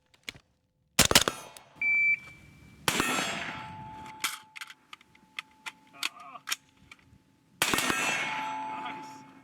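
A pistol magazine drops free and strikes the ground during a night-vision shooting drill, giving sharp metallic clangs amid gunshots, beeps and rattles; a voice speaks briefly.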